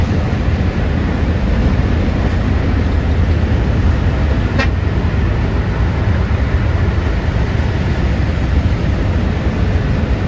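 An Akas NR bus overtakes a Bagong bus on the left at nearly 115 km/h. The ride is a loud, continuous roar of road and engine noise, with one brief faint horn toot partway through.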